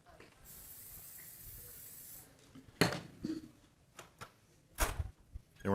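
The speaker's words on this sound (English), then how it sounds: "take a little bit of the Pam spray" Pam cooking spray hisses from the can onto a griddle in one steady burst of about two seconds, followed by a few sharp clattering bumps and a voice speaking nearby.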